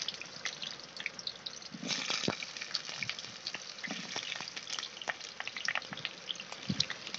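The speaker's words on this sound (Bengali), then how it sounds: "পেঁপে আর আলু তেল উপরে ছেড়ে দিলাম" Diced papaya and potato hit hot oil in a wok and fry with a continuous crackling sizzle full of sharp pops and spatters, close and moderately loud, with no talking.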